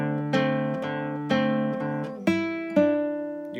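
Classical guitar slowly plucking a short melodic passage from Carulli's Etude 5 Op. 241: five or six clear, close notes with open strings ringing under the plucked melody, each attack decaying smoothly into the next.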